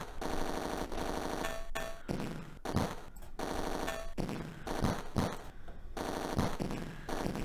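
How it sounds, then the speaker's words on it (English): Rapid bursts of gunfire rattle loudly in the Atari ST rail shooter Roller Coaster Rumbler, coming as repeated machine-gun volleys separated by short gaps and sharp single shots, with no talking. "you can see I'm clearly shooting out a lot of stuff there"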